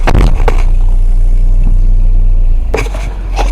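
A freshly installed engine in a Volvo V70R runs close by with a steady, loud low rumble, broken by a few sharp clanks and rattles near the start and end.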